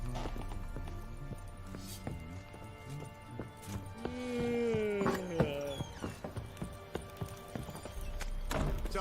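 Steady clip-clop of horse hooves in The Witcher 3 over a background of music and ambient tones, with a horse's whinny partway through.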